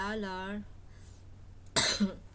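A single sharp cough close to the microphone, coming right after a short bit of speech.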